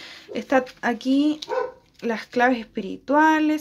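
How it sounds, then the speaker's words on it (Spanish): Small dogs bark in the background, short yaps breaking through a person speaking Spanish steadily in the foreground. "Perdón por los ladridos de los perritos."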